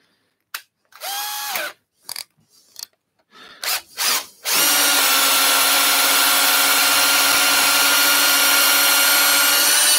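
A drill bores deeper into a turned wooden lighthouse salt mill: a few short starts and handling knocks, then a loud, continuous high whine close by that runs steadily to the end.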